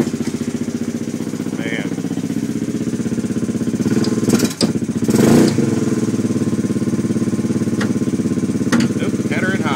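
Small 2009 Joyner 250 engine running with a rapid, steady putter, close and fairly loud, with a short surge near the middle; someone speaks briefly.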